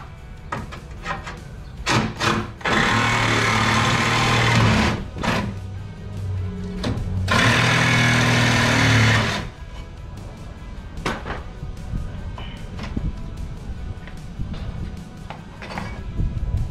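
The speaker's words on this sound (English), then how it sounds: "so I'm just gonna use a saw saw to cut that last piece off" A hand saw cuts through the last piece of a metal winch plate on an 88-98 C/K 1500 truck, two sustained close rasping strokes separated by short pauses, with scattered knocks and scrapes of handling around them.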